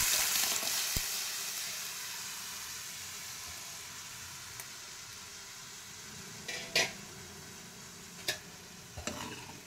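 Lentil rasam poured into a hot tempering of curry leaves, dried chillies and asafoetida, a loud close hissing sizzle that fades to a softer simmer with a few clinks of a pan toward the end, no talking.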